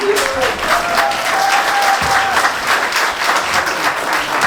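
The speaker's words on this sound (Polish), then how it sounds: "Marcin, te brawa to nie dla ciebie" Loud, sustained applause from a winter-swimming club gathering, a thick crowd of clapping hands close by with cheering voices mixed in and a brief whistle-like tone early on.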